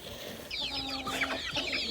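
Chicks and hens clucking and peeping at feeding time, a busy overlapping chorus of short chirps and clucks close by, continuous throughout.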